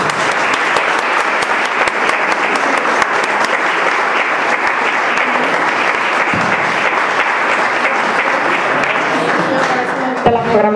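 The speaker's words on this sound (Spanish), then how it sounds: "Os pido un aplauso también para él." A large concert audience applauds steadily for the whole stretch, dense clapping filling the room, with a little voice emerging near the end.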